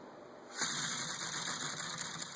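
A model inline three-cylinder engine catches after a short quiet moment and settles into a loud, steady running buzz with a fast even beat that holds to the end.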